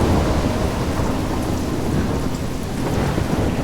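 A thunderstorm in the game Life is Strange, with heavy rain pouring on surfaces and a continuous rolling thunder rumble, loud and dense with no voices.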